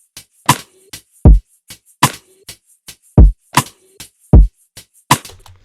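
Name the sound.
drum loop with Haas-effect delay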